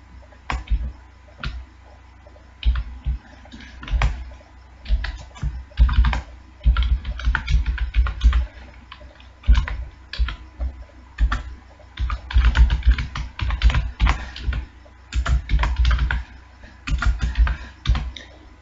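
Program code typed on a computer keyboard, with steady irregular bursts of clicking keystrokes close by, pausing briefly between runs.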